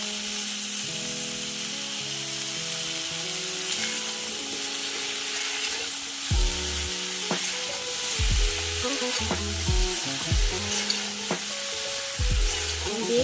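Cut pumpkin frying with a little turmeric in a pan gives a steady, close sizzle with occasional stirring clinks, while background music plays throughout.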